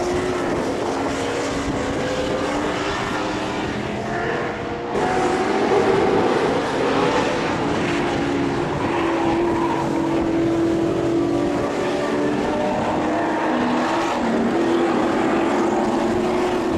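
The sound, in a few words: Group Nc muscle cars racing around the track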